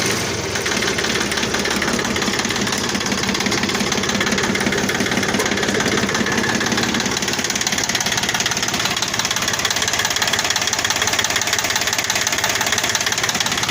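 Tractor engine idling steadily after repairs, a continuous close mechanical rumble with a knocking pulse that holds level throughout, with no talking.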